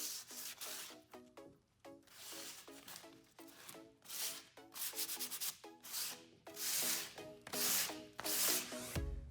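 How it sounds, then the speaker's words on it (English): Rapid back-and-forth strokes of hand sanding along the edges of a silver and chrome mica flake table, a steady rhythmic scratching that runs close and fairly loud, with no talking. "We're gonna use the palm sander right here for the top, but the edges you want to do by hand."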